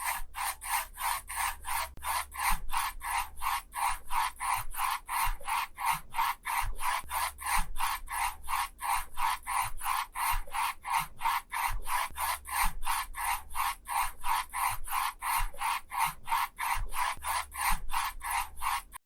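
Soft graphite of a 4B pencil rasping across paper in long, even shading strokes, a steady rapid rhythm of rubbing passes repeating close up for the whole stretch, with no voices.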